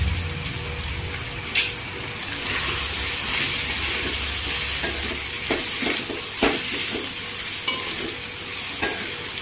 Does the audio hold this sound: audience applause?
no